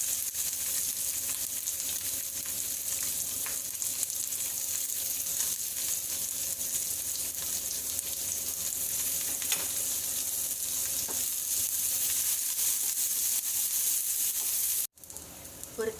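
Cumin, curry leaves, two green chillies and a chopped small onion fry in a pan with a continuous close sizzle, occasional stirring clicks breaking through and a short cut near the end.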